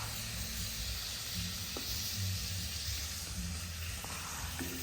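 Seafood paella sizzles in a wide pan set up in a garage while it is stirred and spread out, giving a continuous hissing fry with a low background hum and a few faint scraping touches.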